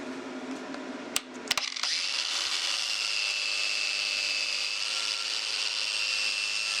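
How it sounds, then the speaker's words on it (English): A wire wheel grinds a welded steel T-joint clamped in a vise, starting after a few sharp knocks, then a loud, steady high whir with a faint scraping edge that runs without a break to the end. "Wire wheel this off."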